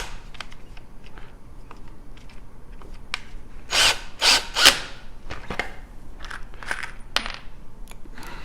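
A drill drives 1 1/4 inch jig screws into a wooden frame, giving three short whirring bursts amid scattered clicks and handling knocks, close with no talk.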